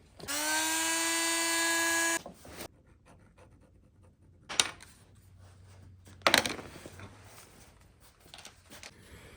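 Power tool trims a Kydex sheet for a knife sheath, giving one loud high whine for about two seconds, followed by quiet handling noises and a few sharp clicks.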